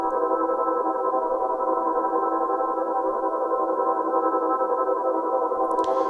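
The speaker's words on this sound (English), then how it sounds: "So it becomes quite a droney kind of just rhythmic texture in a sense." A dark, evil-sounding sample processed with a time-rotation effect preset and EQ that trims lows and highs, forming a steady droney texture with a subtle rhythmic pulse, sustained and fairly loud on its own.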